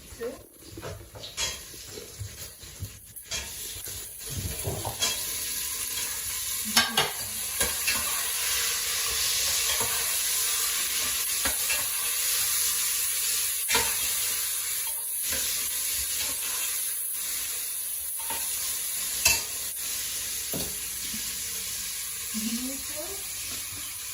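Salted onions fry in a pan as they are stirred: a steady, close sizzle and hiss runs throughout, broken by scattered scraping clicks and taps from the stirring.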